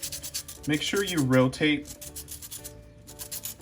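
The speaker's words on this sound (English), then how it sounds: "put your pencil next to it, and you're simply going to start sanding." A pencil is rubbed back and forth on a flat sheet of sandpaper to sharpen its point, making soft rhythmic scratching strokes beneath a person's instructional talk.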